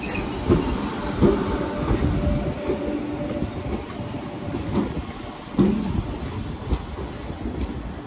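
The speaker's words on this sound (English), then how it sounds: "Train now arriving is a terminating service from Southport." A Class 508 electric train pulling into Manchester Oxford Road station, with a loud steady rumble of wheels on rails, rhythmic clicks over joints and faint squeals as it rolls in.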